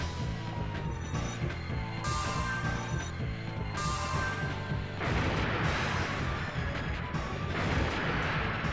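Enemy gunfire in the Phantasy Star Online video game: dense, continuous rattling shots and crashes, loud and close, over a steady game music bed, with no talking.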